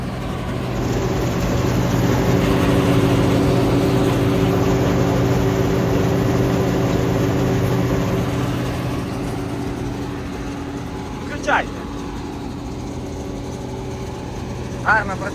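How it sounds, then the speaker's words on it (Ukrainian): A John Deere 952 combine harvester with its header running quietly, a steady low engine drone holding through the whole stretch, with a couple of faint brief clicks near the end. "Тихесенько працює жатка"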